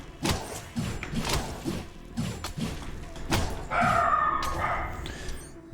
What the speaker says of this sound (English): My dogs are upset about something.